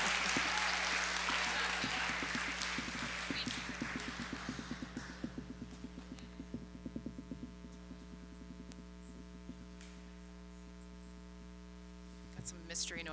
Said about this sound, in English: Congratulations, everyone. Now you can clap.